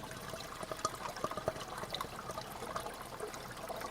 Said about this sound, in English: Just about all of that water that was going over the filter is now falling through the filter and into the pipe